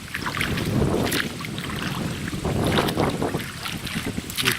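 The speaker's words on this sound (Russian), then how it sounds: "Дождь сменился солнышком, но ветер не унимается." Strong wind gusting across the Luga river during a rafting trip, a rough roaring buffet on the microphone that swells and eases without a break, with water sloshing close by and no talk.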